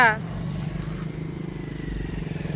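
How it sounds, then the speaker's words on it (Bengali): A motorbike engine drones steadily close by with a pulsing low rumble, a brief loud burst at the start and talk over the top. "দাঁড়াও দাঁড়িয়ে যাও বাইক আসছে দাঁড়িয়ে যাও"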